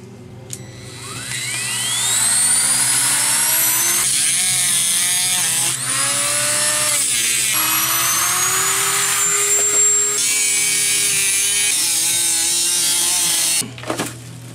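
Saw cutting through a robot co-pilot's plastic housing, a loud continuous whining buzz with rising and falling pitch that runs for over ten seconds up close, then cuts off near the end.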